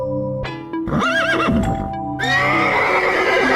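Cartoon horses brought to a field for a horse race: a loud, close neigh with rising and falling whinnies, hoof thumps beneath, then a bright sustained shimmering sound.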